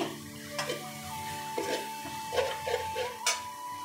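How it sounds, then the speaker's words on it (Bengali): Spices being stirred in a kadai over a low gas flame, with a spoon scraping and knocking against the metal pan in a few irregular strokes under a faint steady hum, close and fairly quiet, with no talking. "হালকা করে নেড়ে নিচ্ছি, ভালো করে মিক্স করে নিচ্ছি"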